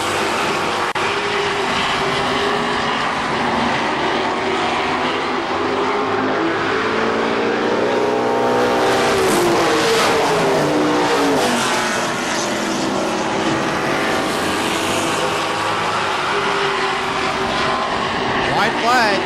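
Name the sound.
race cars at speedway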